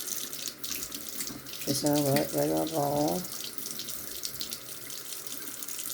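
A bathroom sink tap runs with warm water, a steady splashing rush close by, while someone talks briefly over it.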